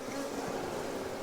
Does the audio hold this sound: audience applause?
no